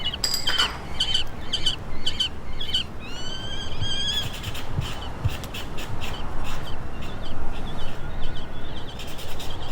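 Falcons near Alegranza calling in loud, harsh repeated squawks and chirps, several close bursts early and then a quicker run of calls over steady wind and surf noise.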